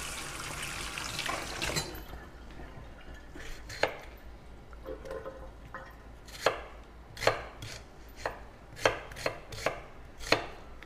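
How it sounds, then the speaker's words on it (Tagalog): A knife slicing onion and garlic on a board, a string of crisp separate chopping taps growing more regular after a brief rustle at the start, close and alone without voices. "Giwa na tayo ng sibuyas bawang."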